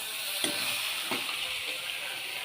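Spiny gourd frying in a pan, a steady close sizzle and hiss with two soft stirring scrapes.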